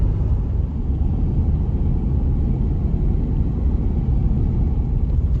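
Car driving along a rural road in New Mexico: a steady low rumble of engine and tires from inside the vehicle, constant and moderately loud, with no talk.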